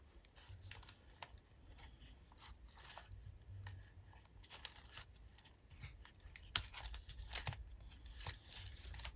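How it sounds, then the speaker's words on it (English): Scissors snip the binding strings of a vintage book, giving faint, quiet cuts and crisp clicks scattered irregularly over soft background rustling. "snip those strings."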